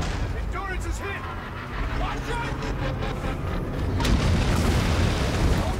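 Ships fire on a fleet in the Call of Duty: Infinite Warfare campaign, a continuous roar of distant explosions and rumbling booms that swells toward the end, with voices speaking over the din.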